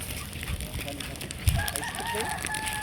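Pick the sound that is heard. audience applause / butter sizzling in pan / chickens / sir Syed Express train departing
chickens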